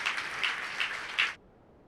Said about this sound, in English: How about we give them all a round of applause